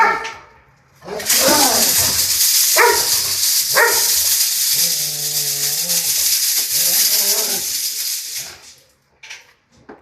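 A guard dog barks repeatedly and loudly at a decoy during protection training, sharp close barks in bursts with a longer drawn-out growl or whine, while people talk nearby.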